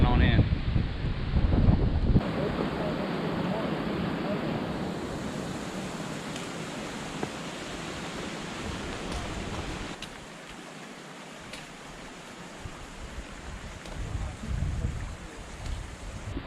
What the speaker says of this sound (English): Looks like we're about to get hammered with the squall.